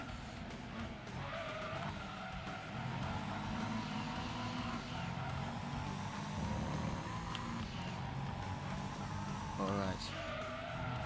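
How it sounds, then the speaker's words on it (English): Plymouth Barracuda muscle car with four-wheel drive in a racing game, engine roaring and revving through acceleration with bursts of tire squeal, loud and steady over about eleven seconds while someone talks over it. "Straight away, 4-wheel drive acceleration. Plymouth Cuda, Barracuda, as it's well known as."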